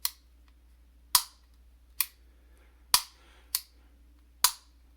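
Six crisp, sharp metallic clicks, spaced roughly a second apart in the quiet, as the external manual safety on a pistol is flicked up and down between safe and fire.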